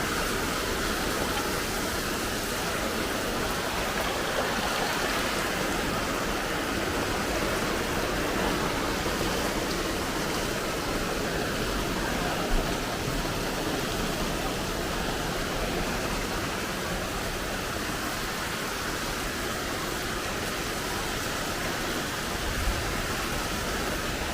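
Heavy, steady rain pouring down outside a house, a dense continuous hiss with no breaks and no voices, a couple of faint thumps barely standing out from the downpour.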